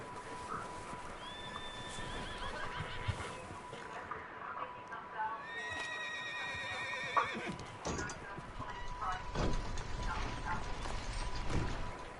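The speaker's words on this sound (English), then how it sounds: "Got some horses in" Horses whinny and neigh inside a barn in the video game Red Dead Redemption 2, several drawn-out calls at moderate distance over a steady bed of ambient game noise and faint mechanical clicks.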